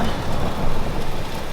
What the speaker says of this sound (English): now it's just so dark and miserable and raining